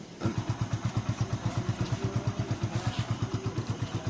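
A motorcycle engine idles steadily nearby during a petrol emissions test, its low thumping pulses repeating at an even, quick rhythm with no voices.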